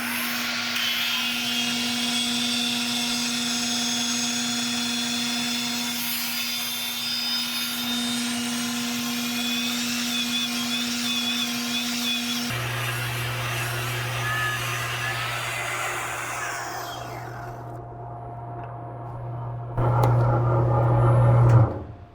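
An angle grinder fitted with a brand new disc grinds into 3/4-inch metal stock, a loud, steady, continuous whine that shifts lower in pitch partway through as load changes, then winds down and surges again near the end.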